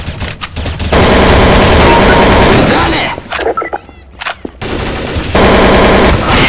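Rapid automatic gunfire bursts from the video game Counter-Strike: Source, loud and dense, with short pauses between volleys and a few distinct single shots.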